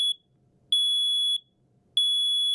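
A household smoke alarm chirps in sharp, loud, high-pitched beeps, each held for roughly half a second and repeated at a steady rhythm with short silent gaps between.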